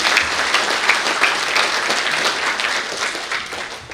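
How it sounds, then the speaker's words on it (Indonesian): Church congregation clapping together during a worship service, dense sustained applause that stays loud and close throughout and tapers slightly near the end. "Tepuk tangan semuanya."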